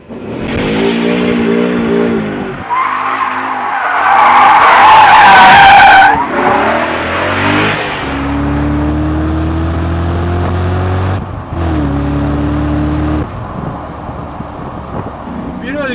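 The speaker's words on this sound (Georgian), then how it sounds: "კაი, მოდი ახლა უნდა გავიაროთ ამ მანქანით" A BMW E39 M5 sport sedan pulls away and accelerates hard, its engine rising through several gears with tire noise and a brief surge of squeal, and someone talks over parts of it.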